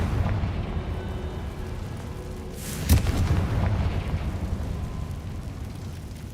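A fire-spell blast in the video game Hogwarts Legacy, a single deep boom about midway through a steady low rumbling background, loud and close.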